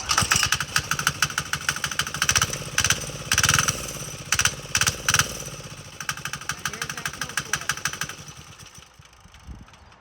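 A 3HP 196cc single-cylinder diesel engine mounted on a bike fires up and chugs at a steady, rapid knock, then sputters to a stop as it is killed near the end.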